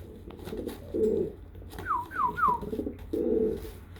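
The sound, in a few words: Kanat Balon pigeons cooing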